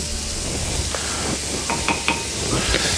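Butter melting in a hot frying pan after meatballs were cooked in it gives a steady, close sizzling hiss with small crackles and pops, heard alone without talk.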